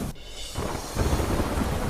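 Heavy monsoon downpour in Nakhatrana, Kutch, with floodwater running: a dense, steady roar of rain and rushing water that thickens and grows louder partway through, with no voices.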